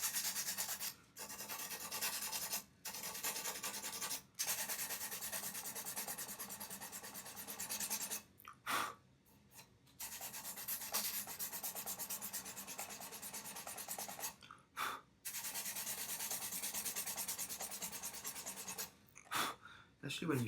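Acoustic guitar sanded by hand with 320 grit sandpaper, a quiet close rasping rub in long strokes broken by short pauses, with faint breathing between passes.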